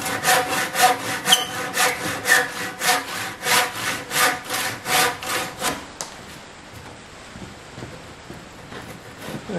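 A hand saw trims the corners off a timber beam for a timber-framed greenhouse, a mortise corner left rounded by a chain mortiser; steady, close back-and-forth strokes rasp rhythmically for about six seconds, then stop, leaving quieter shuffling.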